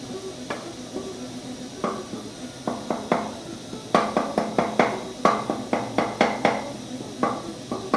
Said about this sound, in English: While you're mixing, you can tell that the tomatoes are getting soft.